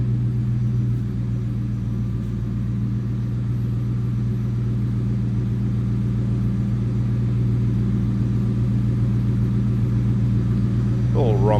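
A 1996 Ford Mustang GT convertible with a 4.6-litre V8 runs at a steady idle, a deep continuous low rumble that stays even and close throughout, with a brief higher rising tone near the end.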